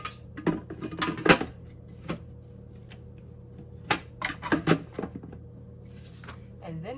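Parts of an ice cream machine being assembled, scattered clinks and clacks of plastic and metal pieces handled close by at irregular intervals, with a voice speaking at times.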